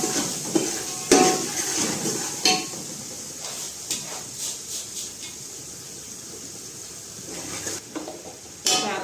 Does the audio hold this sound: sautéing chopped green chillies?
yes